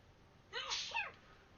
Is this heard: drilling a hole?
no